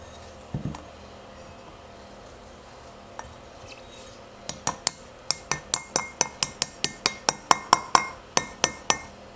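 A socket is hammered against the outer edge of a bearing on a Rupp mini bike under restoration. It gives about eighteen sharp, ringing metallic taps in a steady, quick rhythm, close and fairly light, after a quiet stretch with no talking.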